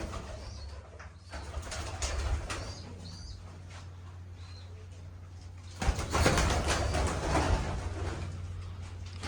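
Pigeons kept in a loft with nesting breeding pairs, soft cooing and occasional wing flutters over a steady low hum, with a louder burst of activity partway through.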